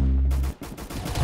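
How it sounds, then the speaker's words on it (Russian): Rapid bursts of gunfire crackle in quick succession, loud and close, like an automatic weapon firing in Roblox Arsenal. "вот здесь где-то стрельба была"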